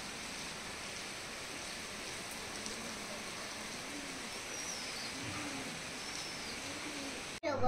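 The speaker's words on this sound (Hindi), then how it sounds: "देहरादून में झमाझम बारिश, मौसम अभी भी नहीं खुला है" Heavy rain falls in Dehradun, a steady even hiss of drops on surfaces throughout, with pigeons cooing softly and repeatedly in the background before a sudden loud knock at the very end.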